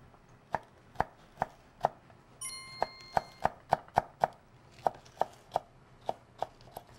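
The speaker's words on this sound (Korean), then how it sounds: "그리고 나서 쫑쫑쫑 썰어주세요." A knife chops vegetables in a home kitchen with a crisp, regular rhythm of roughly seventeen sharp strikes, close and distinct against a quiet background.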